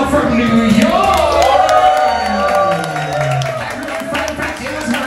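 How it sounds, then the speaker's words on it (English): A cruise ship audience cheers and claps for a guest, a sustained crowd roar with whoops and scattered shouts running steadily throughout. "Everyone, please give a round of applause for Rochelle from New York!"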